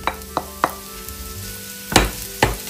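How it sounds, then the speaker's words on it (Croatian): Button mushrooms frying in butter in a pan, with a soft sizzle broken by several sharp spatula taps and scrapes. "u ovaj buter znači dalje pržimo šampinjone"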